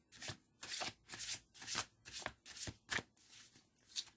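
A deck of playing cards is shuffled up close, a quick series of crisp riffling bursts in an uneven rhythm, with no voices.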